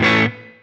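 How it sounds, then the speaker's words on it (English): A distorted electric guitar chord rings briefly through a plate reverb on a Line 6 HX Stomp, the decay set short, cutting off after a moment and leaving a faint, fading reverb tail. "we'll just add, I like plate reverb"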